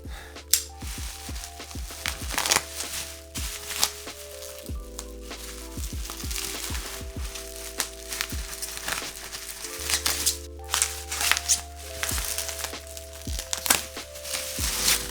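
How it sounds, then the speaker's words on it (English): Bubble wrap packaging being unwrapped from an M1 Pro MacBook Pro 14, with crinkling, crackling plastic in irregular bursts over a steady low background hum, close and moderately loud throughout. "Let's go ahead and unwrap this bubble here."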